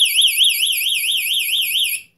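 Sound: personal door alarm sounding

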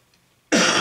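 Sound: cough

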